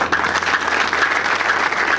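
Audience applause at the inauguration of a 2015 war band contest, a dense, steady wash of clapping from a crowd that fills the whole moment without a break.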